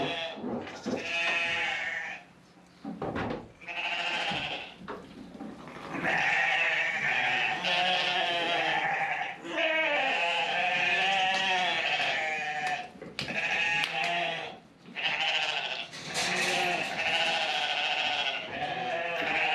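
Sheep bleat repeatedly and loudly in a pasture, overlapping calls from several animals close by with short pauses between bursts.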